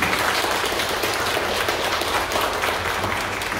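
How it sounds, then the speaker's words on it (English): Audience applause for mayoral candidates at a town candidate forum in Rockmart, a steady wash of clapping from a room of people, even and sustained without talk on top. "If everybody wants to give them a quick round of applause"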